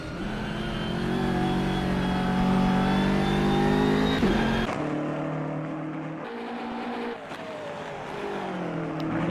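Race cars, including a BMW, roar around Brands Hatch in a sim racing game, engines loud and steady with shifting pitch as the cars accelerate and follow one another; the tone drops abruptly midway, then continues at a lower rumble.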